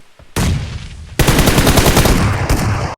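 Gunfire in a video game shooter cracks out in loud automatic bursts, a rapid stream of shots cutting off and resuming, with a brief quiet gap before the longer final burst.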